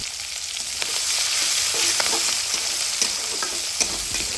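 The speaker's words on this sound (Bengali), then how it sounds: "নেড়ে চেড়ে পেঁয়াজগুলো একটু নরম করে নেব।" Chopped onion and green chili sizzle steadily in hot oil with a bay leaf while a spatula stirs and scrapes the pan, giving a continuous close frying hiss with intermittent clinks.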